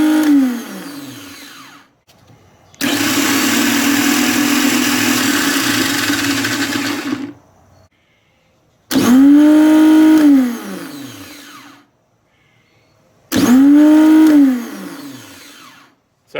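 A new starter cranking a Nissan Maxima engine in several loud bursts: one long steady whirring crank, then two shorter cranks whose pitch swoops up and falls away, separated by silent pauses, close to the engine.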